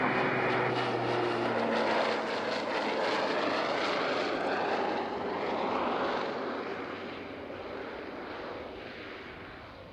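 A propeller airplane lands on runway 14 at Zurich airport. Its engine drone and prop buzz are loud and steady at first, then ease off gradually as it passes and recedes.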